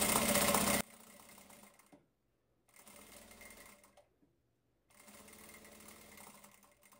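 A sewing machine stitches along a zipper with a normal presser foot, whirring steadily in three short bursts separated by brief pauses, heard close and alone.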